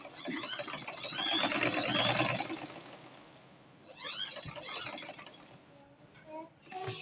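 A sewing machine stitches fabric for an agbada bubu, running in a couple of fast whirring bursts with quieter pauses between, close and moderately loud.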